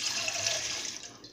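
Water runs steadily from a tap into a container as it is measured for a beer priming solution, giving a continuous close splashing rush that lasts about a second before it trails off. No one speaks.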